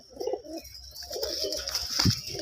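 Racing pigeons, each stamped and colour-marked, coo softly nearby in low rolling bursts, with a faint steady background hum and a brief clatter near the end.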